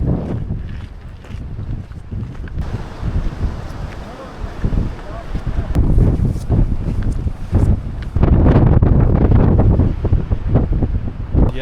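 Strong gusting wind buffets the microphone on a mountain hike near Pulpit Rock above the Norwegian fjords of Stavanger, a loud, rough rumble that swells toward the end while people talk nearby.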